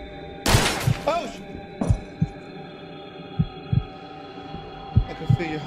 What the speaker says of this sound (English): I can feel your heartbeat.